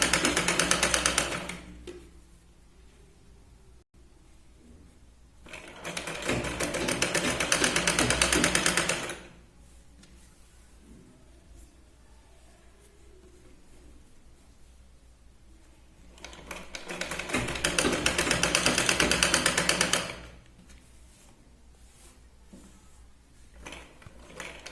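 A sewing machine stitches along the edge of a katori blouse, running in three steady bursts of rapid mechanical whirring, separated by quieter pauses with light handling sounds.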